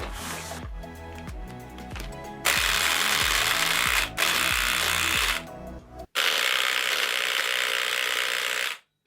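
An electric lock pick gun runs in loud, steady mechanical bursts, a rattling buzz with rhythmic pulses early on, then sustained harsh whirring broken by short pauses and stopping abruptly.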